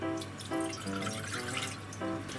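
A cup of water is poured into a frying pan as the base of a tofu steak sauce, making a quiet, close trickle with small splashes and drips for a couple of seconds.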